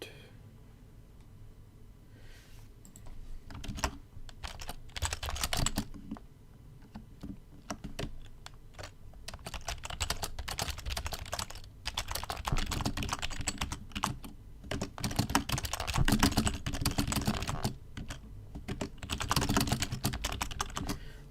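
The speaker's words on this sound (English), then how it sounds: "Sure you loved the sound of that typing." Rapid typing clatters on a computer keyboard in bursts of close, crisp keystrokes with short pauses, growing busier and louder toward the end, with no talking.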